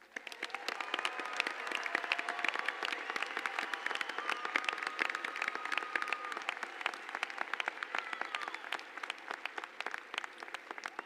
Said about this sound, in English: Please join me again in giving all our graduates a round of applause.